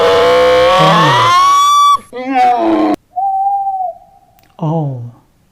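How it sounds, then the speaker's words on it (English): Owl hoots ring out loud and close as several sustained, tonal calls separated by short gaps, with a brief break of near silence between them. "owl"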